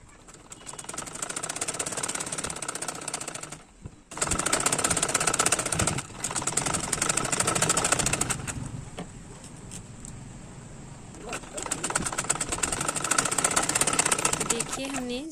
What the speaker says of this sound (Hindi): देखिए हमने जीप में सिलाई लगा ली है, ये जीप अटैच हो गया है।